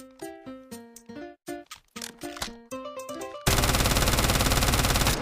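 A gun fires in the mobile shooter game Delta Force. A sustained burst of rapid automatic fire comes loud and steady after a few seconds of chiming tonal game sounds.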